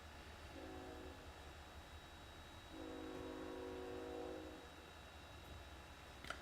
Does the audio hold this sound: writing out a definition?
no